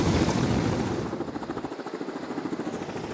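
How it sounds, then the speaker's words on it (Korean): A rescue helicopter hovers low in a narrow mountain valley on the Gongnyong ridge, its rotor chop a fast, even pulsing that emerges from wind roar and continues steadily, moderately close. "헬리콥터 소리가 들렸습니다"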